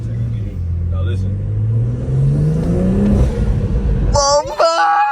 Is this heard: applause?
no